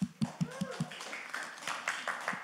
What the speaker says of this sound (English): Wow, round of applause.